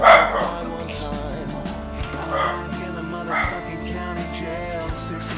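Small dog barking and yipping in short bursts up close, with a few whimpering whines between the barks.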